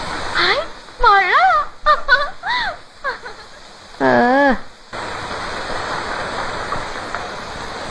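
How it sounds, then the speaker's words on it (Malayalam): Steady, fairly loud rain hisses evenly for the last few seconds, following a stretch of short voice sounds. "ഹായ്, മഴ."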